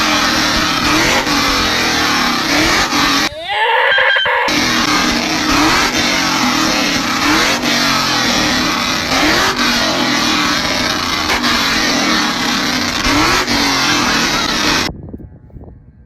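A loud truck engine roars and revs almost nonstop at a truck meet, with a brief dip partway through before it cuts off at the end.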